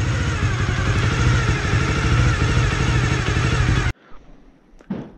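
A Honda Dream 50 motorcycle idles roughly close by, a steady uneven putter and clatter that stops abruptly near the end, leaving a few faint knocks.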